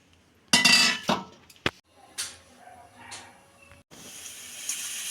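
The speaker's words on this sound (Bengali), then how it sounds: "মা এবার আলুগুলো প্রেসার কুকারের মধ্যে দিয়ে দিচ্ছে।" Potatoes dropped into a pressure cooker while making veg aloo dum, giving a few loud clattering thuds and clinks of metal over about a second, then quieter rattles and a soft hiss.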